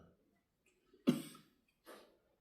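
An elderly man coughs twice during a quiet prayer session: a sharp, close cough followed about a second later by a softer second one, against near silence.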